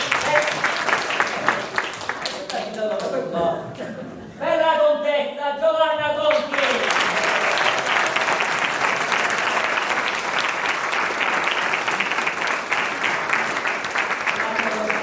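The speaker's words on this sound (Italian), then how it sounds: "un bel applauso, per favore, più forte." Theater audience at an amateur Italian comedy performance bursts into sustained applause after a cast announcement; a voice speaks over the start, then clapping swells loud and continuous to the end.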